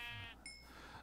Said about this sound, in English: Oh, there's lots of sheep.